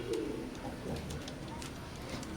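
A pair of Oman blood line teddy pigeons coo with soft, low, repeated calls, faint and close, over a muffled background hum.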